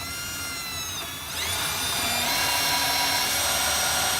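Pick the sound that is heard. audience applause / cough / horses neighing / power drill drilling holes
power drill drilling holes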